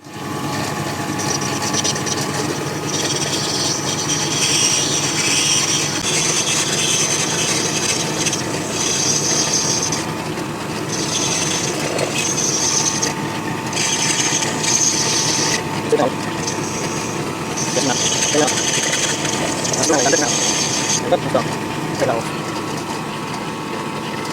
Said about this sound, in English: Just need to take a bit out of it. Let's do that on the lathe.